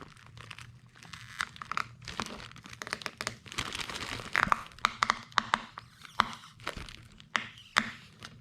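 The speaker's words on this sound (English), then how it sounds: "That overspray really helps peel off this Plasti Dip." Thick Plasti Dip rubber coating, built up in layers with overspray, being peeled off a car surface: repeated crinkling tears and sharp crackling pulls in irregular bursts, close and fairly quiet.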